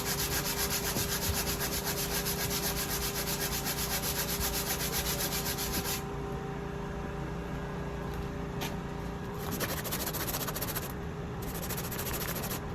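Continuous scratchy scrubbing, steady and close, with a brush rubbing back and forth against a sailboat deck fitting for several seconds.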